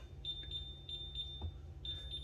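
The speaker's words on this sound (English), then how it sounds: "my alarm is alarming again" A Samsung refrigerator alarm beeps faintly in short, high-pitched pulses, a few quick bursts in an irregular rhythm over a low background hum, with no talking.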